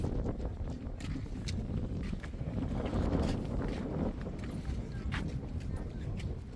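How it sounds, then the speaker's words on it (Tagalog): Blustery wind buffeting the microphone in a continuous rumble on the Mayon Skyline, with scattered clicks and a voice talking faintly underneath. "Sarap ng hangin."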